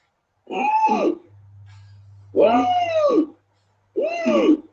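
Three loud, raspy ujjayi pranayama breaths forced through a constricted throat, each about a second long, separated by pauses with a faint low hum.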